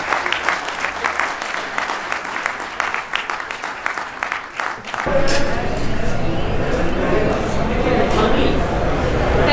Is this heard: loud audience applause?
yes